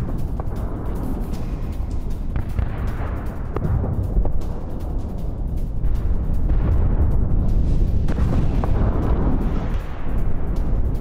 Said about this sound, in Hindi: राफा में इजरायली सेना की बमबारी और ये देखिए जरा ग्लाइड बॉम्ब से जो अटैक किया है